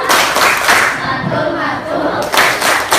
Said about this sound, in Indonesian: Kita beri aplaus untuk kelompok pertama dengan tepuk mantul.